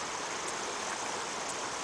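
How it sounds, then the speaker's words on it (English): A creek flowing steadily, a soft continuous wash of running water with no voices, faint and even throughout. "Isn't that a beautiful creek there?"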